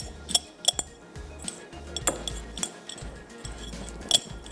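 A spoon clinks and scrapes against a pot or bowl while chicken powder is stirred into beef samosa filling, giving repeated bright metallic taps in an irregular rhythm over a low background hum.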